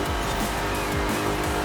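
A front-wheel-drive Ford F-150 Lightning races a flying lap in a driving game, its engine holding a loud, steady roar with gear-shift sweeps and a faint tire whine throughout the short stretch.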